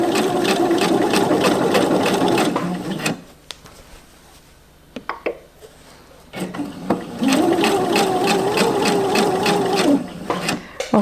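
A sewing machine stitches lining into a garment, running in two sustained bursts of rapid mechanical chatter separated by a quiet pause of a few seconds with small clicks, close and loud.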